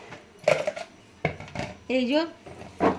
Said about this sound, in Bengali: এইগুলোকে আমি চেঁচে চেঁচে বের করে নেব। এই চামচ দিয়ে দিয়ে